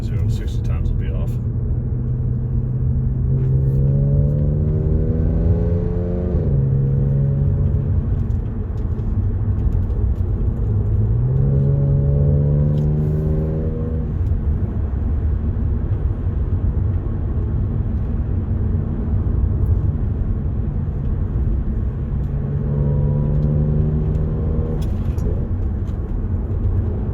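A tuned Audi S4 with a Stage One 034 Motorsport tune makes a 0 to 60 run. The engine climbs in three rising pulls over a constant loud road rumble.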